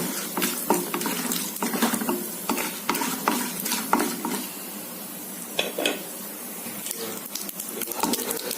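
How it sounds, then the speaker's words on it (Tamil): Curry leaves and dried red chillies are stirred and sautéed in a pan for curry leaf rice, with repeated scraping clicks of a spoon against the pan over a faint sizzle, close and unhurried. "ஒரு கை போடுறேங்க இது நல்லா வதங்கவும்"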